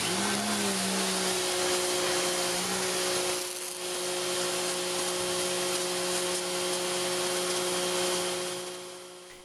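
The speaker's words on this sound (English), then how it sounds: "Now for our first real world test, cleaning that gray oxidized and weathered layer off the planks on my fence." A Homdox 1500PSI electric pressure washer with a 25 degree tip cleaning the gray, oxidized, weathered surface off wooden fence planks: a loud, steady motor whine with a hissing spray, briefly dipping midway, then tapering off at the end.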